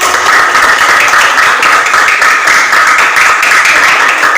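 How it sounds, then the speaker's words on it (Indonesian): Students in a fifth-grade classroom clap together in steady, dense applause, loud and close, continuing evenly throughout with no talking. "Boleh duduk kembali, tepuk tangan."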